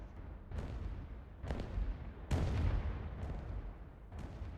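Artillery fire in the Rise of Nations strategy game during a tournament match: a series of five deep, distant booms spaced roughly a second apart, each rumbling briefly before fading, at modest volume.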